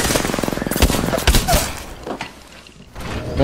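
Gunfire in the video game Apex Legends, a rapid string of close shots with a few heavier thuds in the first half before it thins out, with a voice briefly audible.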